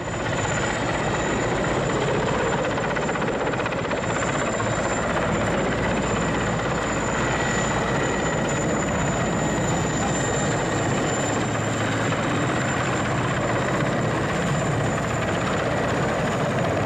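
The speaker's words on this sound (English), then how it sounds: "That day, the helicopter came for us." A helicopter flies nearby, its rotor and engine making a loud, steady, continuous drone that fills the whole stretch with no voices.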